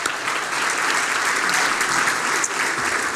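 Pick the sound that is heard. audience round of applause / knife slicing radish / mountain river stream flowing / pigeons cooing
audience round of applause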